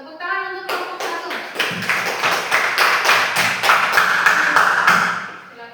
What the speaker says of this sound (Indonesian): itu tepuk tangan untuk kelompok 1